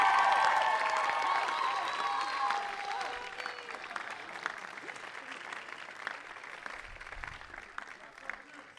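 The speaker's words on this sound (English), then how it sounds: "please, a big round of applause for Sasha." Audience applause at a school closing ceremony, loud and dense at first, then thinning into scattered clapping over roughly nine seconds, with cheering and crowd voices mixed in.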